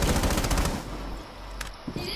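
Rapid automatic gunfire rips through a wall in Rainbow Six Siege as a loud burst of shots in the first moment, then fades into quieter game ambience with a couple of faint clicks.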